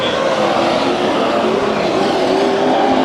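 Superstock race cars roar through a heat race at Santa Maria Speedway, a loud, steady wall of engine noise from several cars running close together for the whole stretch, with no pauses and no talk.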